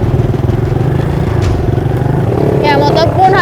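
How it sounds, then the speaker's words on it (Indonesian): A motorcycle engine labours and clatters at steady revs while climbing a slippery, muddy slope on a rural Indonesian road. Its tyres are without chains. The engine sound is loud and close, and people talk over it. "Saya memutuskan untuk turun karena memang motornya tidak kuat untuk menanjak karena kondisi jalanannya sangat licin dan juga berlumpur"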